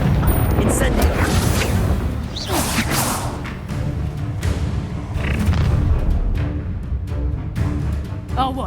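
An incendiary fire spell blasts in Hogwarts Legacy, loud booming whooshes of flame with heavy low rumble and sharp crackles, surging in waves while voices from the game speak amid the fighting.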